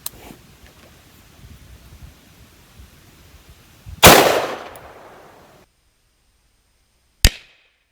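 .22 Long Rifle shots at a wrapped gift box: one sharp, loud crack with a ringing tail that fades over about a second, then a second short, sharp report a few seconds later against a quiet outdoor background.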